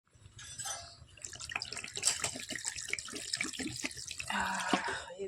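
A kitchen tap runs steadily during home cooking, a close, continuous splashing stream of water into a sink that swells slightly toward the end, with no talking.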